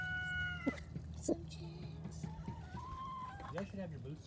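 Chickens clucking and a rooster crowing faintly in a farmyard with baby chickens, scattered short calls under ongoing background noise and nearby voices.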